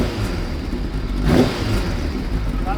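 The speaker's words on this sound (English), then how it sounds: "So if we give it a rev," Kawasaki ZXR750 H1 motorbike engine after carburettor balancing, idling steadily and then given one short rev that swells and falls back, heard close.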